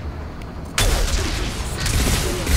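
Gunfire in the sci-fi shooter Mass Effect 2 on Insanity difficulty, with a loud burst of shots that starts suddenly after a quieter stretch and continues as dense, rumbling noise.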